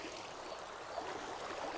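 Fast-flowing river water along the Chilla road between Haridwar and Rishikesh, a steady broadband rushing wash heard close, continuous and alone for under two seconds.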